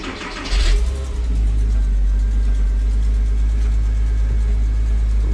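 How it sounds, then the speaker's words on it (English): A crashed Porsche's engine cranks and fires with a brief loud burst, then settles into a steady, close, low idle rumble that holds to the end. "So let's start the car."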